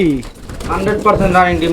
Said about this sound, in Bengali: চমৎকার আরও একজোড়া কালারিং গোল্লা কবুতর আছে